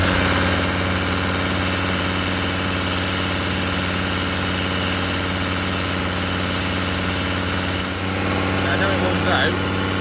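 Volvo D5 diesel engine ticking over at idle during a Turbo Revive treatment, a steady close-up rumble with a constant even drone and a brief dip in level near the end.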